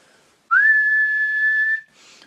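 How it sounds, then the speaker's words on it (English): A single clear whistled note, practised as a saxophone embouchure exercise, held steady and loud for over a second after a slight upward slide, then a brief breathy puff. "just try this a few times, just whistling a note"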